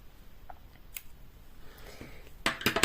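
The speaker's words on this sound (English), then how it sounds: "chain 1, and cut my yarn" Scissors cut crochet yarn while a baby hoodie is being made, a few crisp snips at the end after quiet handling, close and without talk.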